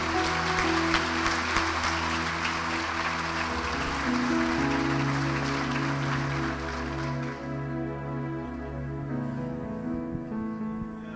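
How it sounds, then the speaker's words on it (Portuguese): A church congregation claps together in steady, dense applause over sustained organ or keyboard chords, the clapping fading out partway while the music carries on alone. "Dá uma salva de palmas a Jesus pela vida do cristão"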